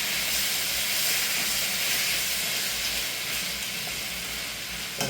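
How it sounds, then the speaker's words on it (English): Jamaican-style red snapper and vegetables simmer in a pot, giving a steady close hissing, sizzling bubble that holds at an even level throughout with no talking. "let that simmer down"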